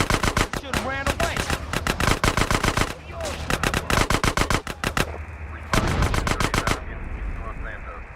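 Rapid bursts of automatic gunfire from GTA San Andreas gameplay, loud and close, with repeated volleys separated by brief pauses and faint talk underneath.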